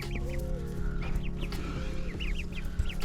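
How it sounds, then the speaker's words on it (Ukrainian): Young mulard and muscovy ducklings about a week old cheep in short, high repeated peeps, close and steady over a constant low background hum. "Ось такі гарненькі каченятка."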